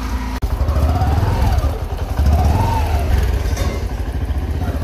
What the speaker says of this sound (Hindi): अभी बाइक को अभी स्टार्ट ही रखा है क्योंकि इसका इतने